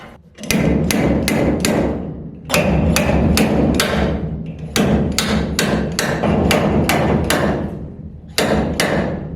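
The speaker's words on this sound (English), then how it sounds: "Mr. Slide Hammer." Heavy metallic slide hammer thuds in quick bursts of three to five sharp impacts, pulling dents from a Bullnose Ford F150 truck bed, repeated several times, loud and close with no talking.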